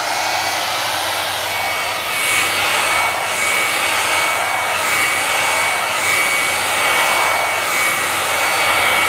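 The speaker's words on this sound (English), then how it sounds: "I am going to blow dry my hair for like 30 seconds" A hair dryer blows hair in a loud, continuous, close-up airy roar with a faint steady whine, rising slightly in strength partway through.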